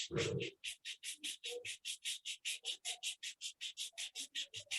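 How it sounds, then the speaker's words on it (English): Palms rubbing together briskly in a quiet room during a guided yoga relaxation, a steady run of about twenty short, even rasping strokes close to the ear. "Rub your both palms"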